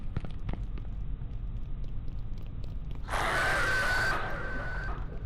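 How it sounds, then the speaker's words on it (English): Creatures in the Backrooms: Escape Together video game let out a single harsh, loud scream lasting about a second, over a low droning game background. "Hope you don't mind these guys screaming for a bit longer"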